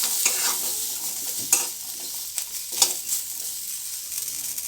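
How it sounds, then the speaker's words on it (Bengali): Peas, potatoes and carrots are frying in a pan, giving a soft, steady sizzle with a few light stirring scrapes and clinks from a spatula. The sound is fairly quiet and close, with no talking. "মটরশুঁটিটাও আলু আর গাজরের সাথে ভালো করে ভেজে নিতে হবে।"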